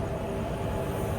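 The Machilipatnam SF Express, train 12750, pulls into a platform at Vikarabad Junction railway station with a steady, loud, low rumble of rolling coaches that continues evenly throughout.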